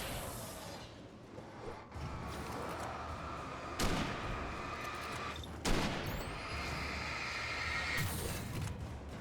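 Sniper rifle shots in the video game Alan Wake, several loud sharp cracks spaced a couple of seconds apart, each with a booming tail, over a continuous dark ambient bed.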